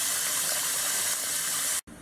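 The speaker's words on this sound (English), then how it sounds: "And what I like to do is dump the hot water and rinse the potatoes in cold water." Hot water is poured off a pot of parboiled potatoes for homemade tater tots and the potatoes are rinsed under cold water, making a steady, close rushing gush that cuts off abruptly near the end.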